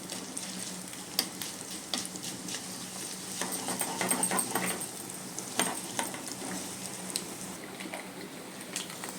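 Urad dal, garlic and dried red chillies fry in hot oil, giving a continuous crackling sizzle with scattered pops and occasional stirring scrapes, fairly close and steady throughout.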